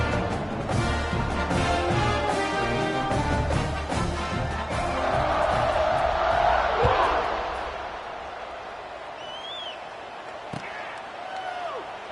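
Video game stadium crowd in Madden, a broad sustained roar and cheering swelling before a football kickoff, loud and continuous with scattered whistles and shouts, then easing slightly.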